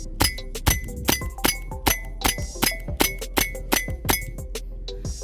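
BBs from a WE IREX gas blowback airsoft pistol with a 6-inch barrel, firing at 380 fps, strike an Alfonso glass bottle without breaking it: about a dozen sharp, ringing glass clinks at a quick, uneven pace, each with a short resonant tail.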